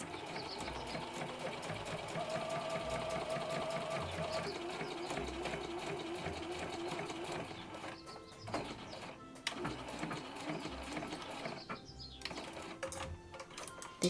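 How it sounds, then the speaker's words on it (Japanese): A sewing machine runs steadily, stitching fabric with a 1 cm seam allowance while making a small plastic bottle case, a continuous close mechanical whir with brief pauses and restarts toward the end. "でこれを1センチの縫い代で縫います"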